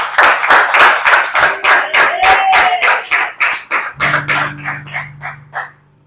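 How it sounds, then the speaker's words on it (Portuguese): A church congregation claps in a steady rhythmic beat for Jesus. The claps grow softer and stop, and a sustained low keyboard note enters partway through. "Uma salva de palmas para Jesus."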